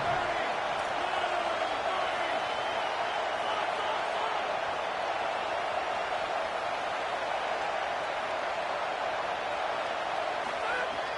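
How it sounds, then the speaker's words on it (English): Home crowd at a football game, a steady, dense roar of cheering heard from a distance, constant throughout without clear peaks. "Man, this crowd really affecting the football game."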